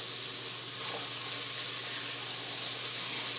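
Red onions drop into hot oil in a pan for an Indian butternut squash soup, giving a steady, close hiss of frying that holds evenly throughout with no voices.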